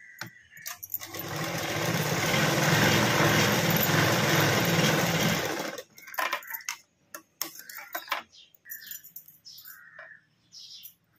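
A sewing machine stitches a princess-cut blouse in one continuous, close whirring run of about five seconds, then stops, leaving scattered light handling clicks and rustles.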